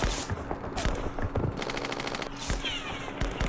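Machine gun fire from the Vietnam-era war game Campaign Series Vietnam, rapid repeated bursts of shots that come in clusters over a steady background of battle noise, fairly loud throughout.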